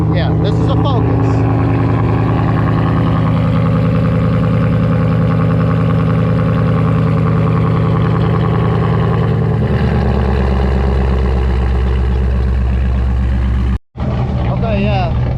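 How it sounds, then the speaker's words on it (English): A Whipple-supercharged Ford Coyote V8 swapped into a Ford Focus with a ghost cam tune rumbles loudly at idle close by, its lopey exhaust changing tone partway through, with voices talking over it. "Whipple supercharged Coyote in a Ford Focus. I gotta get around and let it hear the exhaust a little bit."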